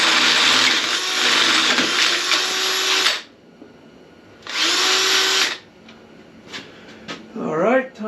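Power drill boring through the thick cast steel of a Shovelhead motorcycle frame, two loud close whining bursts of about three seconds and one second, then quieter gaps with someone talking.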